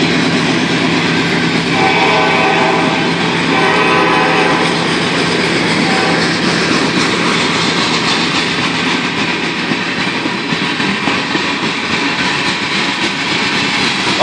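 A CSX grain freight train rolls steadily past at close range, a continuous loud rumble of railcars with wheel clatter and rail noise filling the whole stretch without pause.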